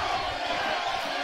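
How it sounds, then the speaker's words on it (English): A boxing crowd cheers a fighter on with a dense, sustained roar of voices that stays steady and fairly loud for the whole short stretch. "the crowd's really coaxing him on now"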